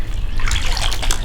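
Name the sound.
water splash as brown trout is released into spring creek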